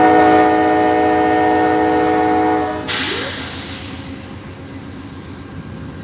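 Amtrak California Zephyr passenger train at a station stop in Ottumwa, Iowa, sounding a loud sustained horn chord for several seconds before it cuts off, then a broad rush of departing train noise fading slightly as it pulls away.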